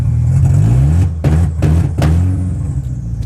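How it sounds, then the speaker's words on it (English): A tuned 2G DSM car engine runs at a steady, loud, close idle, its low throbbing rumble punctuated by a few brief revs or pops. "So the car's running."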